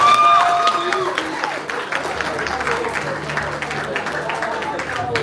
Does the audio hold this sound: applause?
yes